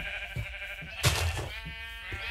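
Sheep in Minecraft bleat in short wavering calls, a few separate cries over a quiet stretch, with one louder, brighter bleat standing out near the middle.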